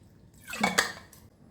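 Lukewarm water is poured over cauliflower pieces in a bowl to soak them, making one brief, close splash and slosh against the dish with no voices.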